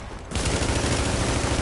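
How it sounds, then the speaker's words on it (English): Shotgun fire in the video game Agents bursts in suddenly after a short lull, then a dense, loud barrage of rapid shots continues to the end without voices. "Bloody shotgun"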